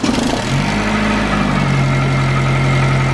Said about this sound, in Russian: Запуск двигателя